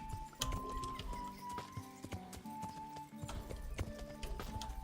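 Horse hooves beat in a steady clip-clop rhythm as a horse travels in the medieval video game Kingdom Come: Deliverance, clear and fairly close, with faint tonal game sounds in the background.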